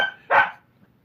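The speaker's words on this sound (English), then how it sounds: "Somebody let the dog out, and he wants to come here." A dog indoors gives a single short, loud bark after a faint earlier yelp, then quiet follows.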